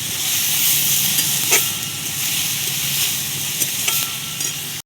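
Onions frying in oil over a well-lit stove hiss with a steady, dense sizzle, close and loud throughout, with faint stirring scrapes now and then.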